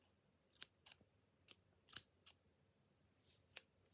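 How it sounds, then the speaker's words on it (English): Scissors handled close by, a handful of sharp, separate metallic snips and clicks spread over a few seconds against near silence. "Scissors."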